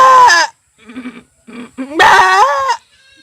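A voice imitates a goat bleating during birth, giving a loud wavering bleat, then two softer broken calls, then a long strained bleat, with short gaps between them.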